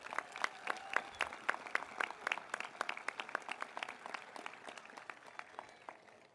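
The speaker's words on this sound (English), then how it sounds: "Can we please have a round of applause for all these individuals?" Moderately faint applause from an audience at a school commencement ceremony, a steady patter of distinct claps over about six seconds that gradually eases off.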